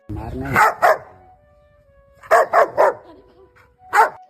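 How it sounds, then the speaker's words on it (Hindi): A dog barks in short clusters, two quick barks, then three, then one more, close by and alone, with quiet gaps between. "वो लगातार अपने पुराने मालिक पर भौंक रहा होता है"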